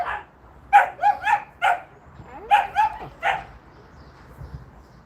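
Dogs bark in short bursts of sharp, yappy barks, two clusters close by, followed by quieter whines and light background noise.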